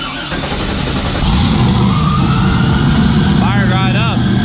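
A car engine cranks and fires up, the loud rumble building and settling into a running idle, with a brief squealing whine near the end.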